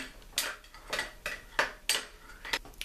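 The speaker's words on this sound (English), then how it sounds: "Stir that in." A utensil clinks and scrapes against a bowl while stirring cayenne pepper into an onion ring dipping sauce, a handful of sharp, separate knocks spaced unevenly, close and moderately quiet, with no talk.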